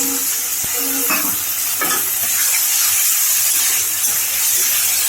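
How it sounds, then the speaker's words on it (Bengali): Spice paste of chilli and cumin powder loosened with a little water fries in a pan, a steady close sizzle broken by a few scraping stirs. "ভালো করে মশলাটা একটু কিছুক্ষণ আমি কষিয়ে নেব"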